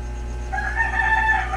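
A rooster crows in a video game, one drawn-out cock-a-doodle-doo rising clearly over a low steady game hum, close and fairly loud.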